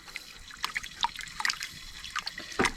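A potato is rinsed by hand in water outdoors during a campfire cook, with soft splashes and trickles coming in small, irregular bursts close by.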